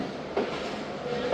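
A train pulls in at night with a dense, continuous rumble and rattle of wheels and cars, loud and close throughout, with a brief squeal of metal near the start and again toward the end.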